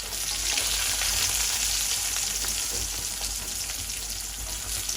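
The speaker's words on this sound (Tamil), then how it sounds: "இப்போ எண்ணெய் விட்டேன் அதுக்கு கொஞ்சம் கருவாப்பட்டை வெங்காயம்" Cinnamon and onion fry in hot oil, giving a loud, steady, continuous sizzle that holds without a break.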